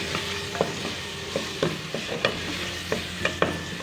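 Chopped tomato masala for khatti daal frying in a pan, a steady sizzle with repeated sharp spoon scrapes and taps as it is stirred, close by, no talking.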